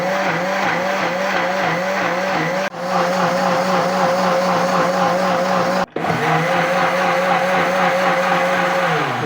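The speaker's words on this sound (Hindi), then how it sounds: "अब हमने क़ुरबानी इसमें डाल दी है, तो हम अपना ब्लेंडर ऑन करते हैं।" A blender motor runs loud and steady with a high whine while blending apricots for chutney, cutting out briefly twice before spinning back up.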